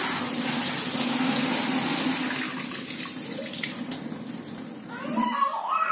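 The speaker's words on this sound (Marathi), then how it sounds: "आपण पालकाची भाजी घेतलेली आहे. ती स्वच्छ धुवून घ्यायची." Spinach leaves are washed under a running tap, giving a steady loud rush of water that shifts slightly as the leaves are handled and then stops abruptly near the end.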